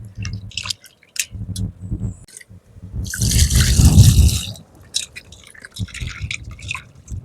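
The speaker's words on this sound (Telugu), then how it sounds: "నీట్గా శుభ్రంగా కడిగేసుకొని మసాలా పట్టించేద్దాం" Quail rinsed by hand under running water, the splashing and dripping close by in bursts that swell into a steady gush in the middle, with no speech.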